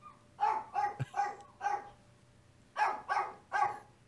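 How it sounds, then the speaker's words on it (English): Several dogs bark outdoors at a neighboring dog: two bursts of sharp, repeated barks, four quick ones, then a pause and three more, at moderate distance with no talk over them. "They're barking at my dog."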